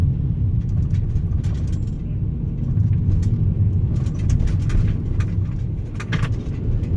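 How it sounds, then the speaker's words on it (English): Steady low road rumble and tyre noise from inside a car moving slowly over a freshly repaired stretch of road, with faint thumps from small bumps and no talking. "See, now if I drive slower, less bumps, quiet car,"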